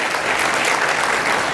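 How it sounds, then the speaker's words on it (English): A hall audience at a Louisiana Legislative Black Caucus scholarship event claps for the staff, producing dense, loud, sustained applause that fills the whole moment. "Give my staff a round of applause for doing an incredible job."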